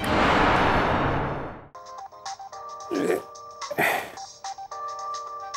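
A phone ringtone plays a repeating electronic melody with tonal beeps, following a loud burst of noise at the start; a brief voice or clatter interrupts midway.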